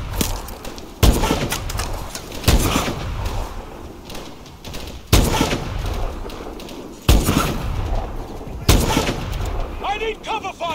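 Heavy gunfire in a Call of Duty battle in Antarctica, loud bursts and booming shots every couple of seconds with rumbling between them and a faint chirp near the end.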